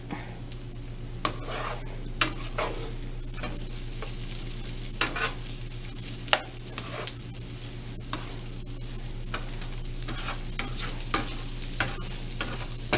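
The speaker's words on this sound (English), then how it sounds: "Then it'll be time to cook the shrimp." Cajun-seasoned shrimp fry in a pan with a constant close sizzle, broken by occasional clicks and scrapes from stirring, over a low steady hum.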